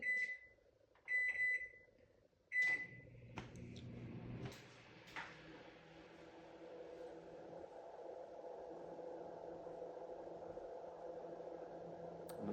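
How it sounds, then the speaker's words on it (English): A Chefman 0.9 microwave oven with a heating fault chimes with a few sharp keypad beeps, then settles into a quiet, steady hum from the spinning turntable and running fan. "The microwave seems to spin, and the fan kicks on, and the lights are on."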